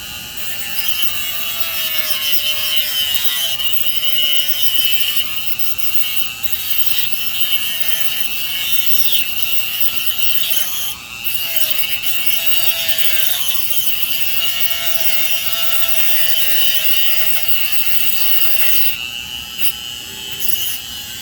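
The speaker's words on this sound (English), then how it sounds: "So I'm going to use the old cutoff wheel." A cutoff wheel grinds through steel wire for handrail stanchions, a continuous loud high-pitched whine with slight shifts in pitch as the cut proceeds, close and uninterrupted.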